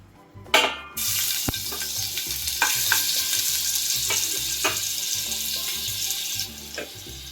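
Biscuits fry in a pan with a loud, steady, hissing sizzle that kicks in after a sharp clatter and runs continuously, close and without voices.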